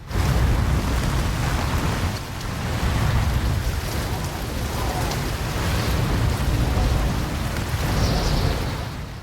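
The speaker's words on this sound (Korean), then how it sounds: "세찬 비가 몰아치기 시작하자" A heavy rainstorm with thunder at sea, lashing down on a boat deck as a loud, continuous roar of rain and deep rumbling, steady and close for the whole stretch.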